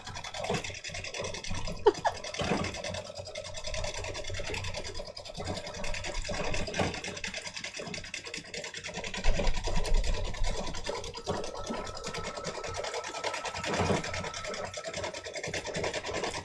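An embroidery machine stitches free-standing lace, giving a steady, fairly faint mechanical whirring and rasping hum that runs throughout with small irregular ticks.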